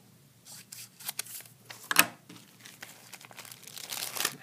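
Paper being cut with scissors, a run of short crisp snips and crinkles at close range, with one sharper slice near the middle.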